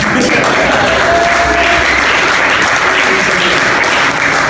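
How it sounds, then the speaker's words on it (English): Loud, dense audience applause at a hardcore graffiti event in the Powerhouse Arena, New York; a continuous wash of many hands clapping with crowd noise and some voices mixed in, sustained throughout. "Round of applause for that."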